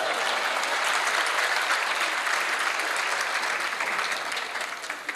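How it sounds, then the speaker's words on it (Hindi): Dense applause fills a hall at a literary gathering, loud and sustained with a broad crowd texture, tapering off slightly near the end. "मैं कसम खाता हूँ ये हॉल तालियों से गूंजता रहेगा।"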